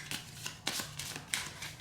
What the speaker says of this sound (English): we shuffle these resource cards